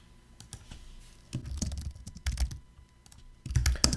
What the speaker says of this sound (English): And now let's type our message.